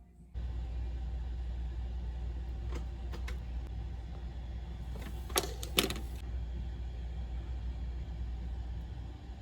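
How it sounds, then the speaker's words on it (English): A loud air conditioner runs steadily in a room, a constant low hum and broadband whir, with a few faint clicks and brief rattles partway through. "I'm sorry if my like air conditioning is really loud"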